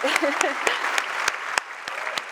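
Audience applause fills an awards ceremony honoring a fashion designer's positive change award at the CFDA Fashion Awards: steady, dense clapping with sharp individual claps standing out, while a voice talks over it.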